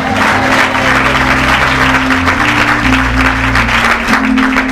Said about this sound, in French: j'aimerais qu'on t'applaudisse ce soir